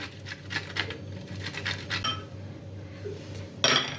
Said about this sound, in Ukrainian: а тепер на таку ж саму крупнішу тертушку поверх моркви натираю е, яєчні білки